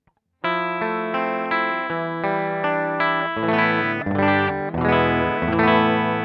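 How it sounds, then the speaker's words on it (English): A PRS electric guitar plays a clean tone from the back pickup through a cab simulator and a multi-effects unit, recorded direct: a sustained chord and then several strummed and changing chords, close, steady and alone. "So there's the clean sound just from the back pickup with the cab sim on."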